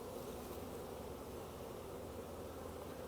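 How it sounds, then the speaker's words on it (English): Honey bees swarm and buzz densely around a hive with a strong queen, a steady, close, continuous drone with no pauses and no voices. "Happy bees, doing a good job."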